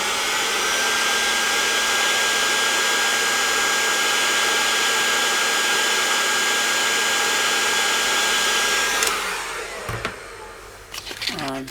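A Fender Blues Junior amplifier circuit board is heated with a loud, steady hot-air blower whose whoosh runs for about nine seconds, then cuts off, leaving a few soft clicks and handling noises.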